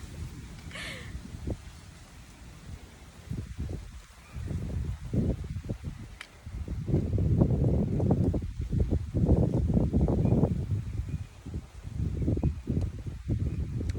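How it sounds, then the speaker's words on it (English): Gusty outdoor wind buffets the microphone in heavy low rumbling surges that swell and fade, loudest in the second half. "Oh my gosh, the wind."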